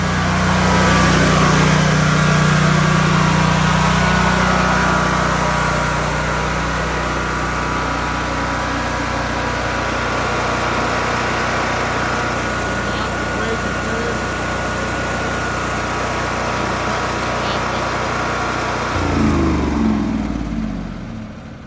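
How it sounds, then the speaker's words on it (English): A portable power generator engine runs steadily and loudly at close range, a constant droning hum that holds for about twenty seconds before its pitch shifts near the end as it winds down. "And then we'll shut down the generator."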